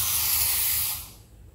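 Aerosol spray can blasting around the base of a rolling office chair, one continuous loud close hiss lasting about a second before cutting off, with no talking.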